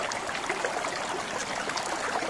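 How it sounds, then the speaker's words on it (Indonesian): River stream flowing at Kali Lampir, a soft continuous burble and trickle of moving water, fairly faint and steady throughout with no voices. "Nah, ini dia, sungainya sudah mulai terdengar,"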